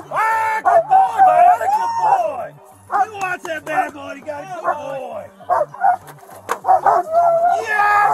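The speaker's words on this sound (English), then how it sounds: "That a good dog, Red." A police dog barks and yelps in short, loud bursts close by during an encounter with a suspect, with brief pauses between the outbursts and no clear talking.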